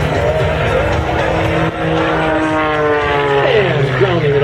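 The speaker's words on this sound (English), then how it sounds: "still rolling the airplane up vertically, holding it there with power" An aerobatic airplane engine at an airshow drones loudly and steadily, its pitch shifting as the plane rolls vertically under power, while a commentator talks over it.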